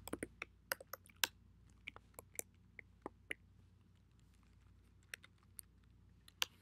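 Quiet, close typing on a computer keyboard while writing LaTeX, with irregular individual key clicks and short clusters of taps spread across several seconds and a soft background hum.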